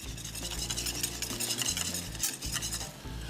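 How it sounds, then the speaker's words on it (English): Butterscotch chips being stirred into a boiling butterscotch whiskey sauce in a pot: steady scraping stir strokes with soft bubbling and light utensil clinks throughout, close and fairly loud. "I'm gonna add in some of this butterscotch chip morsels. Give that a nice little mix."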